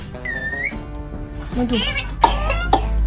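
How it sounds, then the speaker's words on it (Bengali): A child with a cold coughs a few times in short, harsh bursts near the microphone, with some high, whiny vocal sounds in between. "এই যে কাশিটা প্রচন্ড হচ্ছে।"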